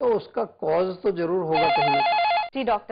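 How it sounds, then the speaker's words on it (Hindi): An electronic telephone ring for an incoming call warbles in a steady repeating pattern for about a second, sandwiched between stretches of someone speaking close to the microphone. "इसी पॉइंट पे हम लेते हैं हमारा फर्स्ट फोन कॉल"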